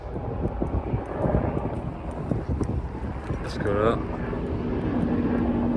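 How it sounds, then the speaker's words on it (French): A helicopter passes overhead outdoors in Dubai, its engine a steady drone mixed with gusty wind noise while someone talks close to the microphone. "Il y a du vent, il y a un hélico, j'espère on m'entendra."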